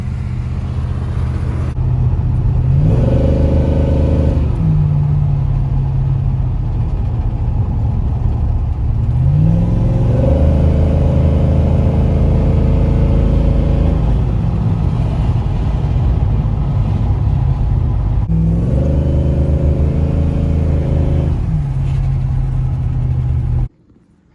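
An LS V8-swapped BMW E90 330i sedan, untuned with a fresh cam, pulls hard on a road in repeated climbing wide-open runs, with the engine note rising through the gears, dropping briefly at each shift and cutting off at the end.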